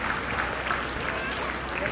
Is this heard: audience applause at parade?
yes